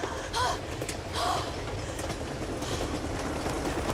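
Train rolling along the rails in a movie motorcycle stunt scene, a steady rumbling clatter with faint wheel noise and brief breaths over the top.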